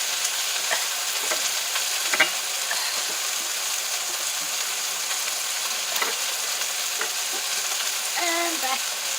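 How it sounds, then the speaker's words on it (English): Achiote oil sizzles steadily over diced pimentos, a dense, close frying hiss that holds for several seconds, with scattered faint clicks and a brief voice near the end. "I have some diced pimentos. I'm going to put the rest of this oil in here."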